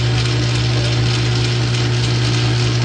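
A metal lathe running while cutting a stainless steel pivot pin, a loud steady machine drone with a strong low hum and a continuous gritty cutting noise, close and unbroken.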